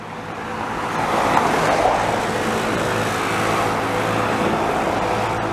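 Cars drive past on Holt Street in Montreal's Rosemont borough, a broad rushing swell of tyre and engine noise that builds and fades near the listener, over a constant hum of street traffic, with no voices.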